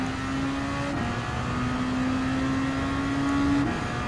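A race car engine in Gran Turismo 7 holds a steady, sustained drone while accelerating downhill on a European circuit, rising slightly near the end as the pitch climbs, moderately loud and with no talking.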